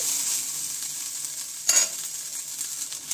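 Fried cauliflower seasoned with salt and turmeric sizzles steadily in a pan as it is stirred, with one distinct scrape of the utensil midway, close and alone without any talking.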